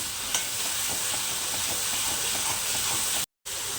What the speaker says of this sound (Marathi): आणि यांना चांगलं एकदम परतवून घेऊया, म्हणजे ह्याच्यामधला ना कच्चा स्मेल गेला पाहिजे